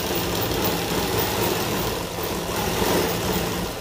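A sewing machine runs without pause as it stitches elastic onto fabric, a close, steady motor drone with a fine rapid rattle of the needle.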